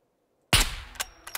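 Sniper rifle shot in the video game SCUM, one sudden loud crack out of silence followed by a short echoing tail and a couple of small clicks.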